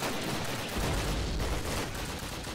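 MG42 machine gun fire in a World War II Call of Duty game, a dense, continuous rattle of rapid shots mixed with distant battle noise, steady and fairly loud for the whole stretch with no talk.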